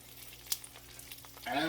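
Peanut-coated tilapia fish frying in a pan, a faint crackle with a few small pops before a louder burst of sizzling rises near the end.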